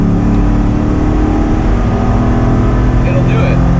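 A 1980s-era 80 Series Land Cruiser with an LS V8 engine swap accelerating, a loud, steady, close engine drone that holds throughout.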